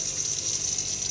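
A caravan tap gushes steadily for a brief moment as the water pump pushes air out of the lines, giving a continuous rushing hiss of water.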